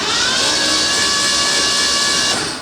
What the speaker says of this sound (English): We're using the starter button.